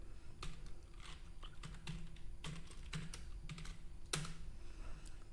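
Someone types into a Microsoft Word document on a computer keyboard, soft, irregular key clicks with a few sharper strikes, quiet and close in an otherwise still room.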